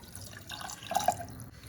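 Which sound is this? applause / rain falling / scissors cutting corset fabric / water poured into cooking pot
water poured into cooking pot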